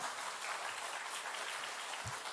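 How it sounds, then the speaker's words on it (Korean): Audience at a church smartphone-media seminar applauding to welcome a speaker, a faint, distant, continuous patter of many hands with no breaks. "우리 힘차게 박수하면서 함께 찬양하겠습니다"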